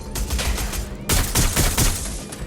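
Rapid, loud bursts of automatic gunfire from a spider turret in the video game Watch Dogs Legion, with a brief lull before a dense volley of overlapping shots.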